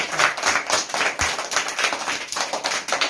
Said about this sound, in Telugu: ఫస్ట్ వీళ్ళిద్దరి కోసం బిగ్ క్లాప్స్ అన్నమాట